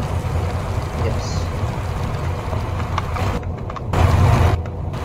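Steady low engine drone of a MAN Lion's Coach bus in Euro Truck Simulator 2, a continuous rumble with a brief swell near the end, heard with background noise and possible talk.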